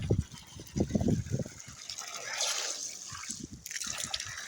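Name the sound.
well water pouring into a bucket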